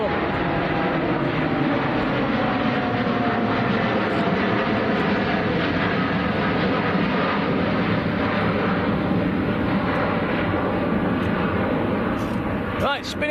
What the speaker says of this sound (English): Very low, long takeoff. This one's going out to Cancun in Mexico.